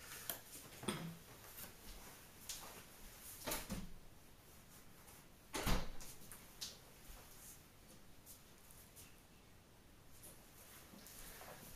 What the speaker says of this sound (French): j'ai juste mon chat qui veut rentrer, il gratte à la porte